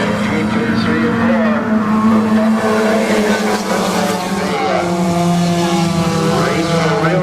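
Race cars roar around Crystal Motor Speedway in Michigan in a pack, engines droning loud and continuous with shifting pitch as they bunch into a turn, while a commentator's voice runs over the top.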